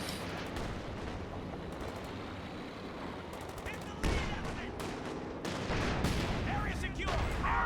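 A strategy-game artillery barrage rumbles as a steady wash of distant blasts and crackling shell impacts, with sharper bursts near four and five and a half seconds, under a caster's talk.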